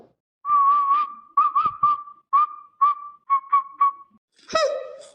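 A cartoon character whistles a tune in bright, sustained notes broken into short phrases, ending with a rising flourish, heard clearly and alone.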